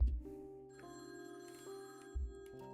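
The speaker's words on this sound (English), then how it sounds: "Why is the phone ringing?" A telephone rings in the video game Feline Forensics, tonal bell-like trilling bursts repeating steadily, fairly loud with a low thump at the start and again near the end, no voices.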